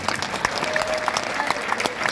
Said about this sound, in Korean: 이기막생 교수님도 감사의 박수를 보내주십니다